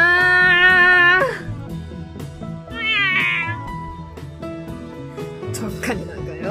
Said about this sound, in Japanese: お前はただの猫だ